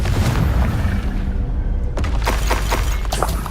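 A Confringo fire spell detonates in Hogwarts Legacy, a loud booming blast with shattering crackle, followed by a few sharp bursts and debris-like impacts, all close and forceful with no talking.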